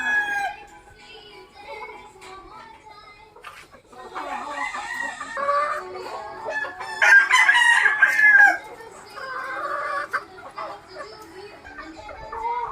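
Gamecock roosters of a Golden Boy sweater line crowing on a small farm, several long overlapping cock-a-doodle-doo calls, near and loud, with clucking and other birds around.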